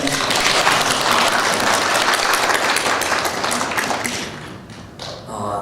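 A church congregation applauds, thick continuous clapping at close range that thins out and fades near the end.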